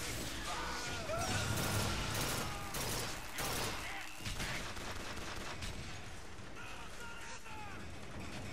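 Automated turret gunfire in a BioShock game, dense continuous shooting and crashing effects at moderate level, with a person talking over it.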